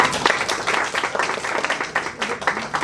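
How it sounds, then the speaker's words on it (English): People clap at a Doctors' Day event in a clinic, brisk uneven hand claps close by, mixed with voices talking over them. "Please clap."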